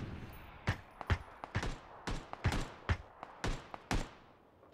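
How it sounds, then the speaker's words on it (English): Gunfire in PlayerUnknown's Battlegrounds, a series of about a dozen sharp, distant-sounding shots in an irregular rhythm, faint and alone. "What is that gunshot I'm hearing?"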